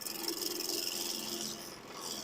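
The bevel of a woodturning tool rubs against spinning wood on a lathe, making a steady, close, hissing rasp that holds evenly and then eases slightly near the end, with no voices.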